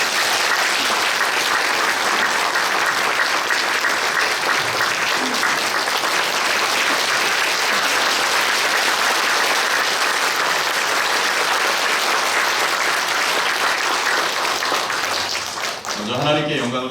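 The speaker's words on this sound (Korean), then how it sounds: "우리 박수로 그냥 환영합시다" Sustained applause from a congregation at a Korean church pastor installation service in Seoul's Sanjeonghyeon Church, dense steady clapping filling the room for about fifteen seconds before tapering at the end.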